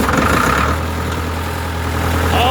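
An old tractor engine, a Ford 8600 or International Harvester Farmall 340, idles just after starting, a loud steady low rumble close by with no voices.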